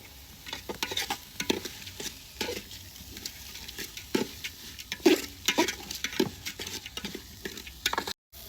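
Rice for khichuri fries and gets stirred in a pan, giving steady close sizzling broken by repeated scraping strokes of a spoon through the grains, with a brief cutoff near the end.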